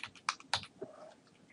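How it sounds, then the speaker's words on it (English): A few quick computer keyboard keystrokes while typing code in a web programming project, soft and close, with brief clicks spaced irregularly and a short faint tone near the end. "I'm going to type in common."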